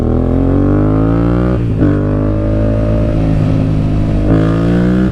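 A Yamaha MT-07 motorcycle engine revs loud and close, its throaty note climbing and easing back through several blips with no one talking.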